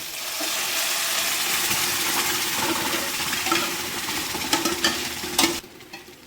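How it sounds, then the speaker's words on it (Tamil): Cooked varagu millet rice is stirred into a sautéed sambar mixture of vegetables and coriander in a hot pan. A continuous close sizzle runs under repeated spoon scrapes and clinks, then it quiets abruptly at the end. No one speaks. "சேர்த்துட்டு நல்லா மிக்ஸ் பண்ணி விட்டுருவோம்"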